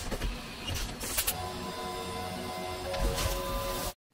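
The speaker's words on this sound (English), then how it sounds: "I'm running a really light cut here due to the length of cutter engagement near the end of these slots." A Haas VF2SSYT CNC mill with a trunnion table takes a light cut milling slots, giving a steady, dense machining whir and hum over coolant wash that runs continuously and then cuts off abruptly near the end.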